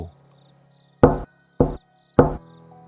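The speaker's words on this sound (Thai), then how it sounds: "ก็ได้ยินเสียงเคาะประตู" Three sharp knocks on a door, loud and close, in a brisk uneven rhythm against near silence, used as a sound effect in a spoken ghost story.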